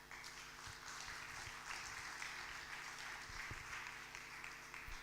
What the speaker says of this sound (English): A round of applause for our panel here,